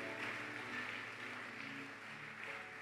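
Congregation applause in a church service, a steady dense wash of clapping and cheering held at an even level for about three seconds with no pauses.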